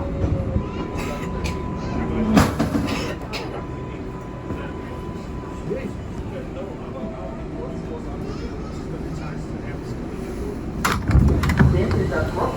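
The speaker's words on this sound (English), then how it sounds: "This is a Brooklyn Bridge bound 6 local train." R142A 6 local subway train riding toward Brooklyn Bridge, a continuous rumbling rattle of the car on the rails with sharp clanks and jolts, under an automated announcement voice.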